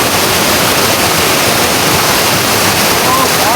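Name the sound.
waterfall water falling down a hill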